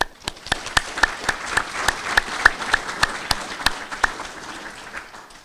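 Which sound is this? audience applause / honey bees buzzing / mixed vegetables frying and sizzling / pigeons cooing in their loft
audience applause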